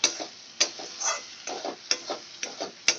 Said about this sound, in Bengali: সুন্দর করে আমি কষিয়ে নেব মশলা